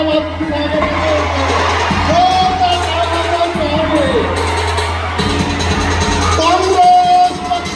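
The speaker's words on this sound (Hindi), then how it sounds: "प्रियंकाजी गांधी एक बार जोरदार तालियां" A large outdoor crowd at a Congress election campaign rally for Priyanka Gandhi cheers and shouts loudly, with whoops and yells rising over a continuous roar and amplified voices in the mix.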